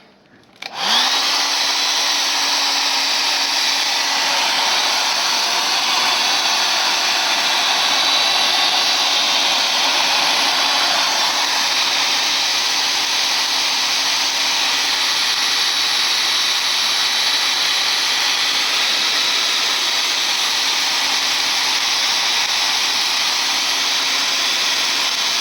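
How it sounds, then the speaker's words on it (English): A blow dryer dries paint on a spray bottle artwork, switching on abruptly and then running as a loud, steady, continuous whoosh with a constant hum that holds alone for the whole span. "Bring in the blow dryer."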